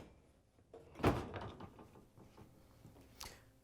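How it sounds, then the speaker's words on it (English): A dishwasher door swings shut with a solid thud, followed by softer scraping and knocks as the machine is pushed back into its cabinet. The work is part of a Whirlpool, KitchenAid or Maytag door strike repair. "we can close the dishwasher door and push the dishwasher back in all the way."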